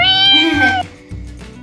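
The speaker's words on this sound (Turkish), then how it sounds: "Arkadaşlar kedim de beni izliyor yukarıdan." A house cat gives one clear, drawn-out meow close by in a kitchen, followed by a softer second call, with no talk over it.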